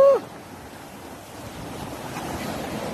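Ocean waves and wind at sea during bluefin trevally fishing from a boat, a steady washing roar with wind buffeting the microphone, after a brief whistle at the start.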